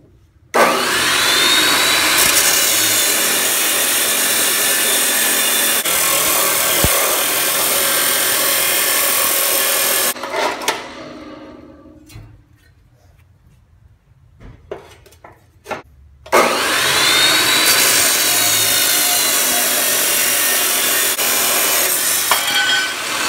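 A power tool cutting through a metal plate for a bench grinder stand, a loud, harsh, steady whine for about ten seconds, a quieter pause with small clanks, then the cut resumes just as loud.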